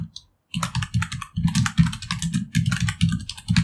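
Fast, close typing on a computer keyboard: after a brief pause, dense bursts of crisp key clicks rattle on continuously with short gaps between words, loud and alone.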